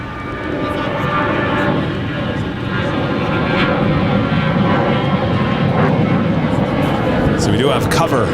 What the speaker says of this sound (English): we got another MD-11 flying over us